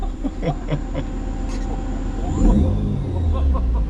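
An EV-converted Toyota AE86 pulls away under power, its electric motor rising in a smooth whine as the car accelerates, with road and cabin rumble growing louder and people talking inside.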